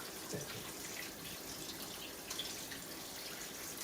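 A kitchen tap runs steadily while a lobster is rinsed beneath it, a soft continuous hiss of water with faint splashes throughout.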